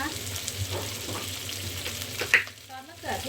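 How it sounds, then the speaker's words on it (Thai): Chicken and cashew nuts stir-frying in a pan, a soft continuous sizzle with a few light scraping stirs, close but fairly quiet, with a faint tone in the background. "ผัดใส่เม็ดมะม่วง"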